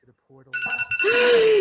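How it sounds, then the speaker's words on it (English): A phone goes off during a staged tech presentation: a short electronic ringing chirp rises out of a brief spoken word, loud and close, ending in a sustained ringing tone. "Phone's going off."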